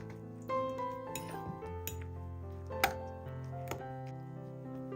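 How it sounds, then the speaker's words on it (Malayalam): Bread pieces and egg stirred gently in a bowl, heard as light clinks and scrapes of a utensil against the dish, quiet and close, with a few sharper taps over faint background music and no talking. "ഇനി ചെറുതായിട്ടൊന്ന് മിക്സ് ചെയ്തെടുക്കാം"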